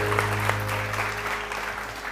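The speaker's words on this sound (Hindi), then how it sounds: "उनके लिए तालियां बजानी जोर जोर से।" A studio audience at a television morning show gives a sustained round of applause, heard as fairly soft, even clapping over a steady background hum.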